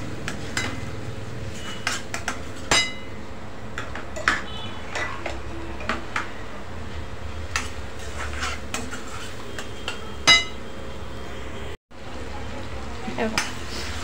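Tomatoes sautéing in a pan for restaurant-style pav bhaji, with low steady sizzling, scattered clinks and scrapes of a spatula against metal, and soft talk now and then.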